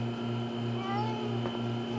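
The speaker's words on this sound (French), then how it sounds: "on va aller chercher ton chat dans cet arbre" A cat stuck up in a tree meows in a cartoon scene, a short plaintive call heard over a steady tonal background hum.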